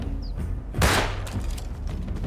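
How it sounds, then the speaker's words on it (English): Gunfire in the survival game Rust: one sharp, loud volley bursts out mid-clip and fades quickly, set against low rumbling background noise. "We heard the gunshots"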